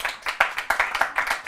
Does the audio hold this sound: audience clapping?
yes